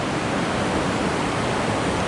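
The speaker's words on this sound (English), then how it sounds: "there's a current that'll suck you right into that waterfall" A waterfall on a swollen Costa Rican river roars as a dense, steady rush of water with no breaks, loud and close, the strong current churning continuously.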